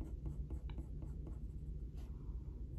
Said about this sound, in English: doing very repetitive, short, linear motions with my pencil